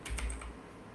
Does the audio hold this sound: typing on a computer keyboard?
yes